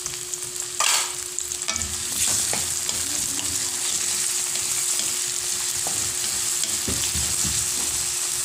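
Onion and tomato sautéing in a pan, with a steady close sizzle and occasional stirring scrapes and clinks throughout, no talking.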